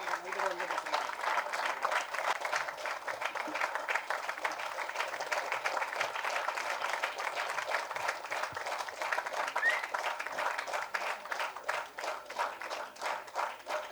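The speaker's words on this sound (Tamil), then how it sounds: "உங்கள் பெருத்த கரகோஷம்" An audience applauds at a ceremony honouring social activists, where actor Karthi presents a cheque; the clapping is dense and sustained, holding steady for the whole stretch before thinning slightly at the end.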